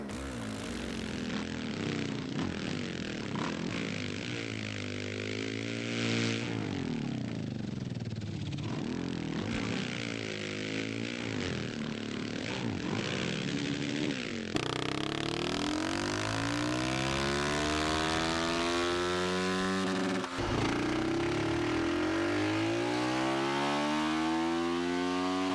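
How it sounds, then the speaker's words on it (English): Dirt-bike engine sound from the video game MX vs ATV All Out, revving and shifting in pitch, followed by a real 450 motocross bike on a track, rising and falling engine revs with a sharper, louder tone. "And we're also going to play a clip of a 450 on a track"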